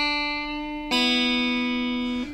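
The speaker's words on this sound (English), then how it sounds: "So you can really hear me bending the string there," A guitar pull-off on the second string, pulled straight down so the string bends and catches the first string, giving a clear sustained note with a sudden brighter re-attack before it stops, alone and up close.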